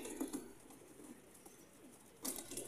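Golden pigeons coo faintly in a loft, soft low calls repeating across a brief stretch with a louder burst of rustling near the end.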